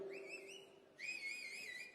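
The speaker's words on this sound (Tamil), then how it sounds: "10 ரூபா பாட்டில் என்ன விசில் அடிக்கிறீங்க?" A crowd whistles at a political rally in Ranipet, Tamil Nadu. Two long, wavering whistles sound faint and somewhat distant over a low background murmur.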